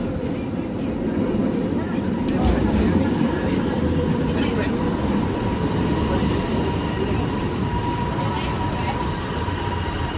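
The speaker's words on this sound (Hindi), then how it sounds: "ये आ गई मेट्रो।" A Kuala Lumpur metro train rumbles loudly and steadily as it pulls into the station, with a constant roar and rail noise and voices faintly underneath.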